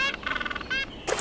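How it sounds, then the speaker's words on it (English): A penguin call in a short burst of loud, harmonic honking squawks that pulse rapidly, pause, then break off into a brief harsher squawk, with no talk around it. "Penguin."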